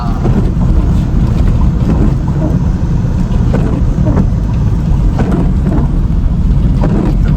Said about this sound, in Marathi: पाऊस चालू झाला आहे पावसानं स्वागत केलेलं आहे आपलं